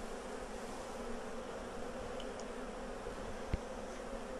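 Honey bees swarming over a Flow Hive brood frame, a steady dense buzzing drone throughout with one brief knock near the end, close and even.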